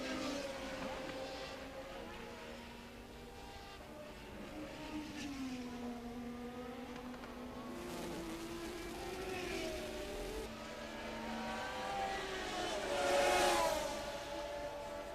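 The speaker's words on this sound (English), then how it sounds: "Piquet takes Tambay on the straight and starts to attack the Ferrari" Formula 1 cars race during the 1981 season, engines whining and rising in pitch as they pass along a straight, several overlapping at a distance with one swelling louder near the end.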